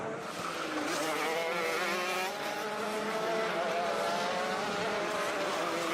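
Mini shifter racing karts on a track at Adams Motorsports Park, several engines droning and whining together continuously at mid distance, with no talk.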